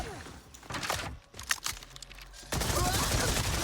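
Gunfire from a weapon in Borderlands 4, several quick irregular shots and bursts followed by a loud steady rush of noise, with faint speech in between.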